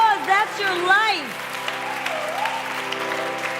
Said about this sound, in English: That's the applause.